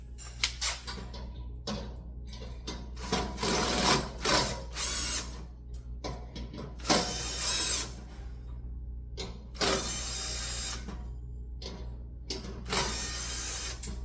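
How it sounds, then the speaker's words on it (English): Screws being loosened on a three-burner gas grill during assembly, close bursts of ratcheting and whirring from a driver, separated by short pauses and repeated several times. "So for that we need to loosen up this 4 screws."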